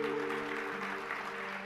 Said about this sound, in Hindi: तालियां बजाई जाए।